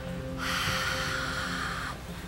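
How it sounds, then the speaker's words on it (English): Deep, throaty ujjayi yoga breath during a workout, one long steady hissing exhale through a constricted throat, close and clear against a soft background hum. "It's called ujjayi breathing, breathing with sound."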